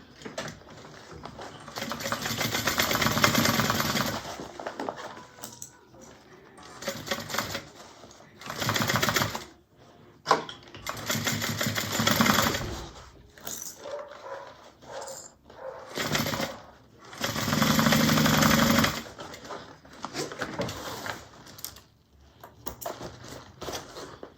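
A sewing machine runs in several separate bursts, stitching a quarter-inch seam along the bottom of a Mabella craft bag. It rattles loud and close, with short quiet pauses between the runs.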